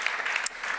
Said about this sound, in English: Give yourself a round of applause for getting up so early after the gala last night.